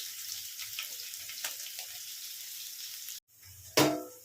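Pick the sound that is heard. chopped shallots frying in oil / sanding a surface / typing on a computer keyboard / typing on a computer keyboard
chopped shallots frying in oil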